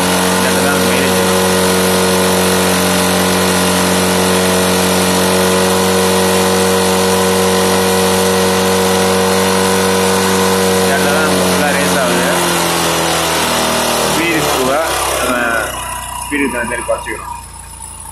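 A Bajaj Discover 150 motorcycle engine runs loud and steady with a strong humming tone, then winds down toward the end. There is no talk.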